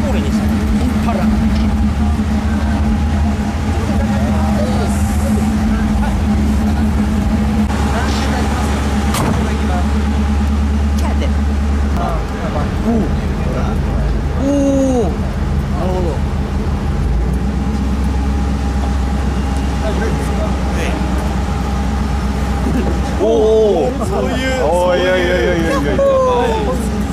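A left-hand-drive Chevrolet Impala with its engine idling in a low, steady hum, while people talk nearby throughout.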